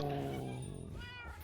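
A cat meows in the Minecraft video game, a drawn-out whining call heard up close while people talk over it.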